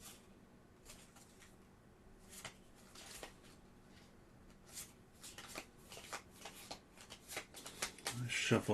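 Playing cards are shuffled quietly at close range in a soft, rustling run that ends in a few sharper riffles, alone, during a tabletop game session.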